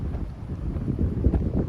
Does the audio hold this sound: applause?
no